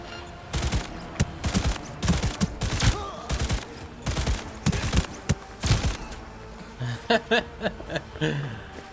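Rapid bursts of gunfire from the player's gun in Cyberpunk 2077, sharp repeated shots in clusters over several seconds, with a brief chuckle and game sounds mixed in.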